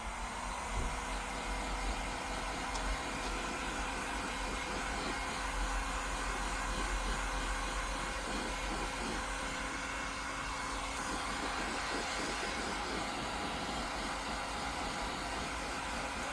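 A heat gun warming a dented plastic bumper section on a Mercedes Citan in a workshop, a steady close blowing whir with a faint tonal hum, unbroken throughout.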